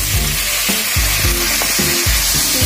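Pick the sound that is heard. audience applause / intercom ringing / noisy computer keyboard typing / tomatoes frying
tomatoes frying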